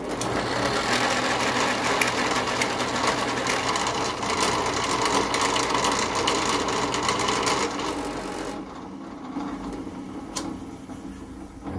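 A spinning tool trims the end of a brass tube, giving a steady, close whirring grind for about eight seconds that then drops to a quieter hum.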